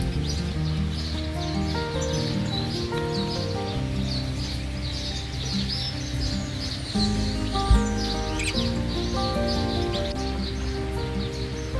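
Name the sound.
many birds calling in trees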